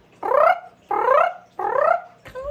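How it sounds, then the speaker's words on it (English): A gray tree frog gives three loud, trilling calls of about half a second each, evenly spaced, followed by the start of a fourth. "right now the gray tree frog is singing their little hearts out"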